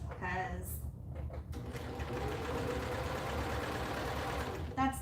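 A sewing machine with a freshly replaced needle runs in a steady, rapid, even whir, close and fairly loud, after a brief quieter start with some faint sounds.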